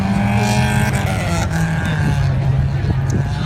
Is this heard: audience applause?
no